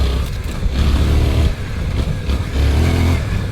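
A 2024 Suzuki V-Strom 800DE adventure motorcycle pulls away with its traction control in gravel mode, the engine note loud and close, rising and dipping through the throttle changes, a brief lull, then the engine revving up again.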